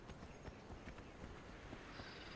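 Horse hooves pound in a steady running rhythm in the video game Conan Exiles, faint and buried in constant broadband noise, with no talking.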